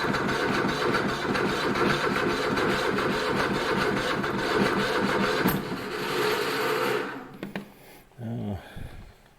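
A Cub Cadet LTX1050 lawn tractor engine runs after a choke start, a close, steady mid-pitched chugging for several seconds that then cuts out, followed by a few brief clunks and handling noises.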